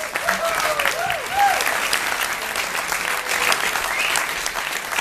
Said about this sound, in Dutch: nog één keer een hartelijk applaus voor al deze mensen